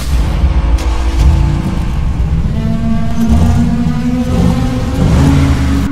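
A customised Mercedes G-Wagon G63 engine runs loud and close, its dense mechanical roar steady throughout with rising revs and a whirring drone.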